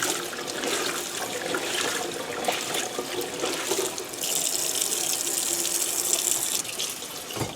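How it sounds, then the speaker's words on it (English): Tie-dye fabric rinsed and squeezed under a running tap, a steady loud gush of water that splashes more brightly partway through. "give it some more rinsing and squeezing here"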